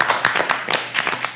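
Clapping from a small group at an Indonesian school film talk show, a quick run of claps that swells briefly and fades over about a second and a half.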